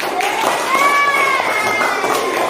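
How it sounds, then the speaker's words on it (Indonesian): Schoolchildren in a classroom clap for a group of classmates, a brisk, lively patter of many small hands mixed with high-pitched voices and squeals throughout. "Oke, tepuk tangan buat kelompok 4."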